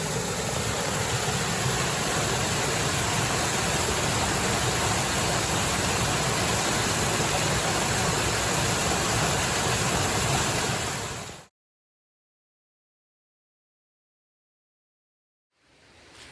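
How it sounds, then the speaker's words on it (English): Water flowing along a creek bed on the Appalachian Trail, a steady broadband rush lasting about eleven seconds before cutting to silence, with a faint return at the very end. "I'm walking down a creek bed right now with flowing water"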